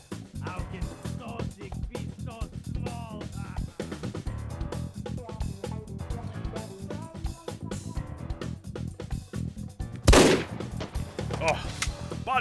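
Sniper rifle fire in the VR shooter game H3VR, one loud sharp shot around the ten-second mark standing out against continuous busy game music and action noise.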